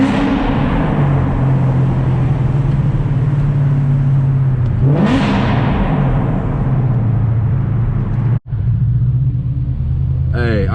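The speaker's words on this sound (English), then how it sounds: "I can't believe this exhaust sound is good, man." A Ford Mustang GT exhaust roars loud and close under hard wide-open pulls, with a sweeping rev change midway and a sharp cut before the deep, droning rumble resumes.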